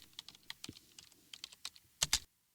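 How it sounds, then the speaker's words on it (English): Keys clatter on a computer keyboard as a short message is typed, an irregular run of faint clicks ending in two louder taps, with no talk. "start off by typing the letter D, followed by a space and then the username"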